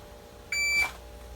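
Shot timer buzzer for dry fire draw practice sounds once, a single short, loud electronic tone about a third of a second long, alone in a quiet room.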